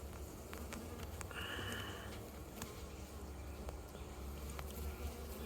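Bees buzz around a backyard at close range, a steady faint drone with a brief louder pass as one flies near the microphone, and no talk over it.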